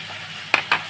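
Chopped tomato and green chili with turmeric fry in a hot pan for a mushroom fry, giving a steady close sizzle. Two quick stirring scrapes cut in near the end.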